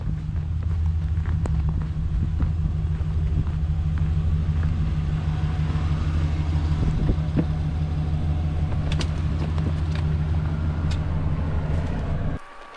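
A pickup truck fitted with a snow plow running in winter, giving a steady, close low engine rumble with wind noise that continues evenly and cuts off abruptly near the end.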